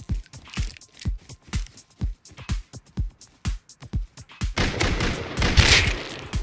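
Rapid gunshots from the survival video game Rust, a steady burst of evenly spaced loud cracks that runs into a denser, noisier blast of fire near the end, with no talking.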